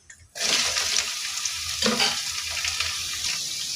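Bottle gourd pieces dropped into hot oil with curry leaves burst into a loud, steady sizzle and crackle after a short quiet moment, then keep frying with some stirring scrapes.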